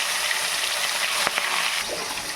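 Katla fish pieces fry in hot oil with a steady broadband sizzle, close and fairly loud, broken by a couple of brief sharper crackles near the middle.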